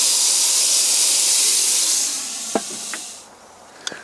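Marinated chuck steak sizzling loudly on a Weber Q1200 grill set to high, a broad steady hiss that eases after a couple of seconds, with a few sharp pops and crackles near the end.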